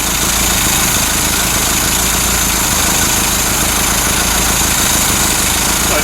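A Ford Capri MKI engine running at high idle, a loud, steady, close drone with constant vibration and no talking.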